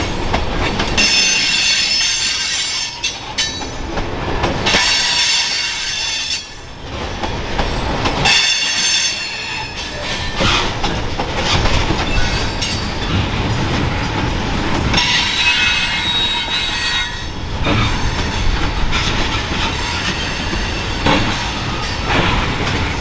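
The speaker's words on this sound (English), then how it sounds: "As 278 passes by, another northbound off the river line shows up, this time Autorac train M217 with 4 units, including 2 old Dash 9s up front." CSX freight trains passing at a rail terminal, including an Autorac train led by Dash 9 locomotives: loud continuous rumble of railcars with repeated wheel squeal and clatter, close by, no talk.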